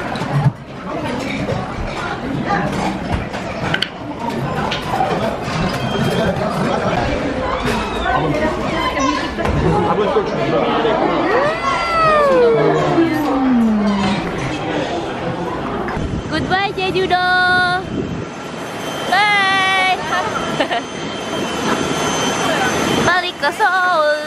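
Inside the busy terminal at Jeju airport, a steady wash of crowd chatter and mechanical hum fills the space while people talk close by.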